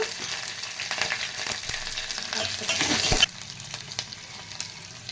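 Onions, curry leaves and two green chillies fry in hot oil for a tempering, giving a dense, close sizzle with stirring that swells and then drops suddenly to a quieter crackle.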